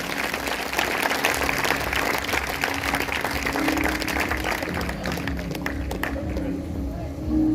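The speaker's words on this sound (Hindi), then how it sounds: "जोरदार तालियां बजाएंगे" A church congregation at an Easter Sunday service applauds loudly and continuously, a dense roar of clapping that fills the room throughout, with a faint voice beneath it.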